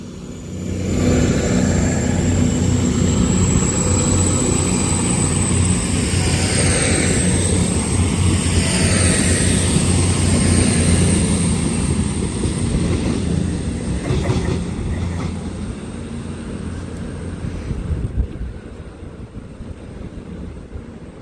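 Avanti West Coast train pulling out of Birmingham International station, a loud sustained rumble of wheels and traction with a high whine and light rail clatter, close by and steady before easing slightly near the end.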